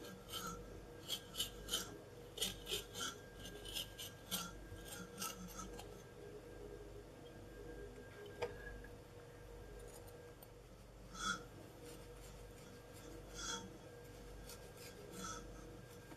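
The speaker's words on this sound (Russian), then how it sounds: "Длинным ножом разрезаю посередине." A long knife saws through a cooled sponge cake to split it into layers, soft rasping strokes in a rhythmic series, then a few scattered scrapes and taps, quiet and close.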